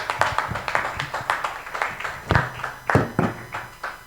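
A conference audience claps in an uneven, rhythmic stretch of hand claps that holds steady for a few seconds and then thins out.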